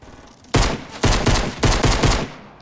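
Pistol fire in the video game Fortnite comes as several loud, sharp bursts of close shots in quick clusters, separated by brief gaps over steady background game noise.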